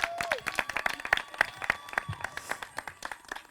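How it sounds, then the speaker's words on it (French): Scattered audience clapping at a house finale event, a fairly sparse, uneven patter of individual claps with some crowd noise, moderately quiet and not a full ovation. "On peut encore remercier LB Bank pour ça en applaudissant"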